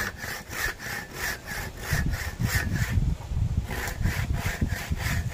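A hand saw cutting through wood outdoors on a mountain, with steady rhythmic back-and-forth rasping strokes, close and clear, about a dozen strokes in quick succession with no talking.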